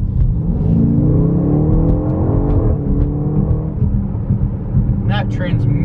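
A 2021 BMW X5M SUV accelerates hard, its engine roaring loudly with rising gear-by-gear pitch sweeps and quick shifts, ending in a brief higher whine near the end; no words are spoken.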